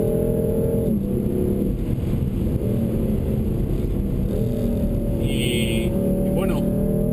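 A BMW M4 Coupé engine drones loud and steady at speed on a race circuit, its pitch dipping and climbing as it shifts and pulls, with someone talking over it.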